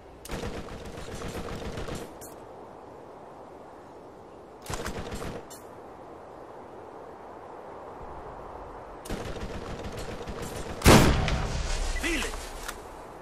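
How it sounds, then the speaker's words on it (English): Gunfire in the video game Borderlands: bursts of shots in clusters separated by quieter gaps, with a louder sharp blast near the end, fairly close and loud. "Why are you shooting at me for?"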